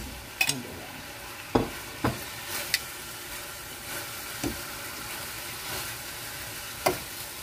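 Onions frying in a pan for Filipino beef steak at home, a soft steady sizzle broken by several sharp spatula knocks and stirring scrapes at uneven intervals, close and fairly quiet, no voices.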